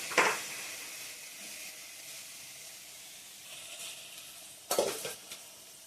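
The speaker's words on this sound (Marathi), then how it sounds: "लांब कापलेला कांदा आणि टोमॅटो इथं टाकला आता तेल टाकून ते लाल होईपर्यंत" Long-cut onion and tomato fry in oil in a pan with a soft continuous sizzle, broken by two short scraping bursts of stirring, one at the start and one near the end.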